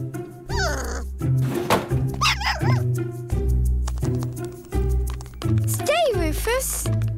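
A cartoon dog barks, yips and whimpers in quick bursts over a busy bed of music and sound effects, loud and close throughout.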